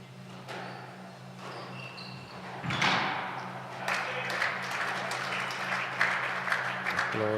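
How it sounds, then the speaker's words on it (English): Applause for a player at a darts open tournament rises over a steady low hum with a few thumps and knocks, a moderate spread of clapping that continues to the end with murmuring voices. "Applause now"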